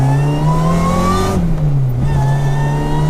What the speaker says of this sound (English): And that supercharger whine is insane.